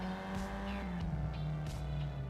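A small car in a racing video game drives with a steady engine drone and shifting pitch, punctuated by a few short bursts of tire noise, heard fairly faintly with no voices.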